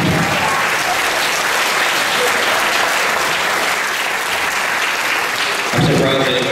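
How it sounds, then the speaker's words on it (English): A film festival audience gives a guest a big round of welcoming applause before a Q&A, loud and dense clapping from a packed room, with a surge of cheering near the end. "Let's give him a big round of applause."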